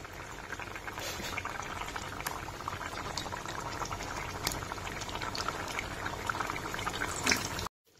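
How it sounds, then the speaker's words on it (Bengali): Fish curry with potatoes boils steadily in a pot, a dense, continuous bubbling and popping that stays close and even throughout before cutting off abruptly. "মাছের ঝোলটা এখানে ফুটতে শুরু করে দিয়েছে।"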